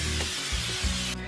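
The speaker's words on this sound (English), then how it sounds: "we're going to spray each sheet pan" Vegetable oil cooking spray hisses onto a metal sheet pan before cookie dough goes on, in a couple of short, close bursts of airy spray with faint clicks of the nozzle.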